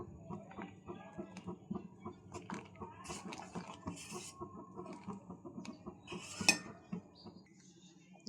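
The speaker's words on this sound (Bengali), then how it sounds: "এটা সমানে নাড়তে হবে, নেড়ে নেড়ে ঘন করতে হবে, নাহলে তলায় লেগে যাবে" Rice paste for phirni being stirred in a pot, a steady run of soft scraping and clinking of a spoon against metal, with occasional louder knocks and light background noise.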